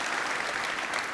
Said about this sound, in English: please, everyone, give a warm round of applause for James.